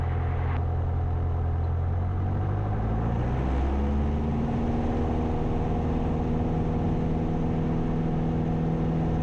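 A light aircraft engine at full power during the takeoff roll, a loud, steady drone whose pitch rises and steadies as the plane gains speed, continuous and without voices.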